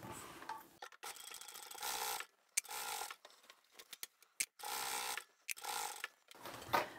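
A sewing machine stitches along the bottom edge of the outer fabric of a large craft bag in short, close bursts of rapid mechanical whirring, separated by brief pauses and small clicks of fabric handling.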